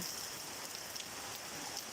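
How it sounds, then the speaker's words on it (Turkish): Heavy thunderstorm rain pours down steadily, a dense hiss of drops drumming on surfaces close by, with no voices. "Şu anda şiddetli bir yağmur, gök gürültülü,"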